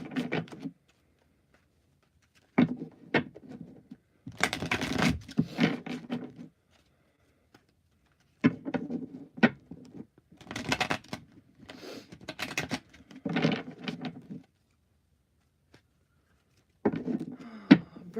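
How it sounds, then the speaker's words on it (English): Tarot cards shuffled by hand during a reading, in several bursts of crisp riffling and tapping separated by short silences, close and fairly quiet with no talking. "Virgo, last shuffle here."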